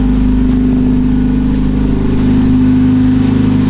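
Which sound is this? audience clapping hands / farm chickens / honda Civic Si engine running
honda Civic Si engine running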